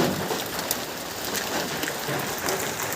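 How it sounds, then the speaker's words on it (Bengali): Steady rain falls during a hailstorm, with lightning in the area, making a dense, even hiss that stays loud and close for the whole stretch with no speech. "দেখুন ওদিকে বাড়ির স্ট্রাকচার হচ্ছে দেখুন, বৃষ্টি পড়ছে, ওয়েদারটা দেখুন জাস্ট।"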